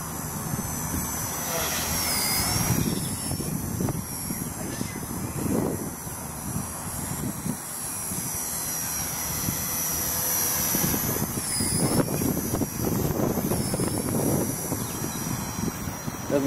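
Small RC helicopter hovering outdoors in gusty wind, its high rotor and motor whine steady and fairly loud throughout, overlaid by rumbling wind buffeting the microphone.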